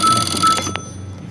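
A telephone rings with an incoming call during a live engineering call-in show, giving a short bright bell burst that stands alone and close, with no talking.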